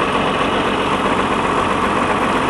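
A diesel tractor engine runs at a steady idle, a loud, even low rumble with constant throb and no pauses, nearby and alone without voices.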